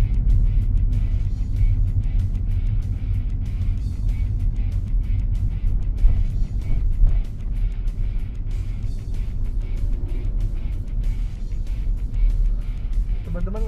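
A manual car drives along a road and accelerates up through the gears to fourth, its engine a steady, close low drone under cabin noise, with a person speaking over it.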